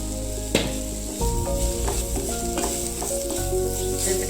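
Masala with salt sizzles steadily on a low flame while a spoon scrapes and stirs through it in repeated strokes, close and moderately loud, for chilli bread masala.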